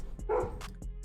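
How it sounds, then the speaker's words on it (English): A dog barks once somewhere in a home, faint and muffled, with a few soft rhythmic thumps around it and no talk over it. "I'm sorry about my dog barking"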